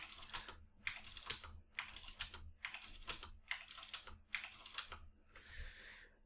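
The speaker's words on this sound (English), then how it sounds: "I'm just going to keep typing in 100." Rapid computer keyboard typing in short bursts, about seven clusters of clattering keystrokes separated by brief pauses, close and fairly quiet.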